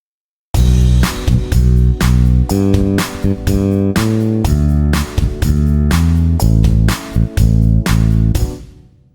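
A synth bass line quantized to eighth notes plays solo, punchy and loud, with steady repeated notes of uneven lengths and a sharp attack on each note.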